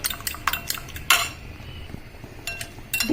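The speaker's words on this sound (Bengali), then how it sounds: "ডিমের মধ্যে অল্প একটু নুন দিয়ে ডিমটাকে ভালোভাবে ফেটিয়ে নেব" Quick clinks and scrapes of a utensil beating egg with salt in a bowl, in short bursts with brief pauses, close by and moderately loud.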